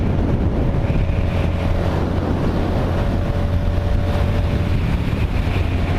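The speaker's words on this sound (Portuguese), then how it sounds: "Barulhinho tão gostoso da Comet" Comet GTR motorcycle engine and exhaust drone steadily and loudly while riding, mixed with constant wind rush over the microphone and no talking.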